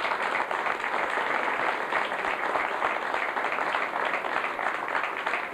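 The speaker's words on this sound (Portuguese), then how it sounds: "Com uma salva de palmas que vimos aplaudir para este parabéns." Steady applause from a gathering at a veterans' reunion, many hands clapping in a dense, even wash that keeps its strength for several seconds without breaks or talk.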